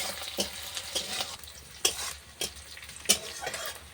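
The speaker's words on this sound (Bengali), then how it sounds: "দিয়ে ভালো করে আমি মশলাটা ভেজে নেব" Whole cumin and five-spice seeds fry in a pan for a fish curry, giving a steady close sizzle with scattered scrapes and clicks from stirring.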